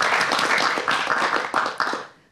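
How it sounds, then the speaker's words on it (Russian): An audience at an evening school event in the Kalinkovichi district claps steadily for a couple of seconds, a dense close patter of many hands that fades out at the end. "Эти аплодисменты вам."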